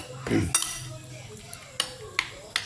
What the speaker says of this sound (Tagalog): Yan, i-mix natin.